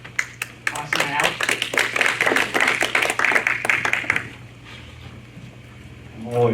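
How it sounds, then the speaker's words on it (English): An indoor audience claps for a speaker coming up to the front, a lively run of hand claps for about four seconds that then fades into quiet room sound. "I'm always amazed that somebody claps when I come up here"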